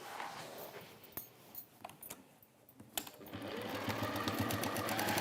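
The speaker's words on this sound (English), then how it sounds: "we are just going to stitch 1/4 of an inch because we've pushed that seam allowance back. So we're going to sew" A domestic sewing machine stitches a seam on a lined origami bag. Scattered clicks and handling knocks come first, then a steady, close, whirring run of stitching fills the second half.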